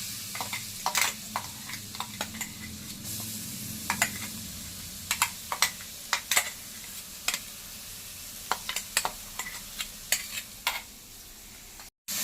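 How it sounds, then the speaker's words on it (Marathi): Ground green chili thecha being sautéed in a pan for kothimbir vadi, a continuous sizzle of frying with repeated sharp clinks and scrapes of a spoon stirring against the pan. "असेल तर आपण हा ठेचा वाटलेला टाकूया"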